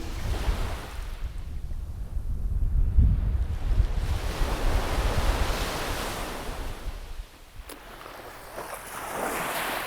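Surf washes onto the beach at Great Keppel Island with rolling waves swelling and receding under gusty wind buffeting the microphone, fairly loud and continuous.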